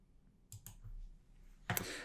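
A computer mouse clicks OK in Vectric V11 software: a few soft, quick clicks, then a sharper, louder click near the end, in a quiet room.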